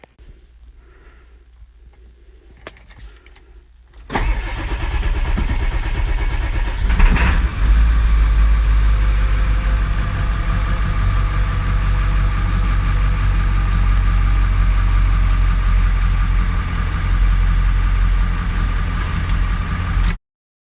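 A diesel engine in a project vehicle cranks and catches about four seconds in, then settles into a steady, loud idle with a low rumble that continues to the end.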